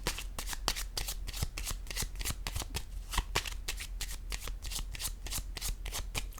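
A deck of tarot cards is shuffled in a fast, steady series of crisp riffling slaps and flutters, close and fairly quiet, with no speech.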